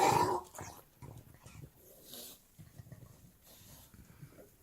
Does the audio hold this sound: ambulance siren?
no